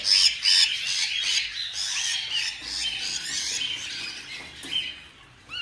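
Pet birds kept for breeding squawk loudly and close by, a rapid string of harsh, shrill calls that overlap and carry on without pause, with no voices over them.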